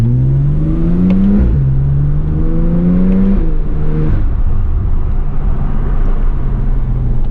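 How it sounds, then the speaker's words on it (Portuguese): A Porsche 911 Turbo (991.1) engine accelerates in Sport mode, heard loud and close from inside the cabin with a window cracked open, its pitch climbing in repeated sweeps as it shifts through the gears before settling into a steady rumble. "abrir um pouquinho a janela, só para vocês poderem entender um pouquinho do barulho desse carro"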